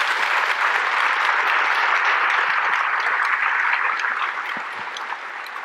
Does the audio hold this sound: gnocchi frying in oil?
no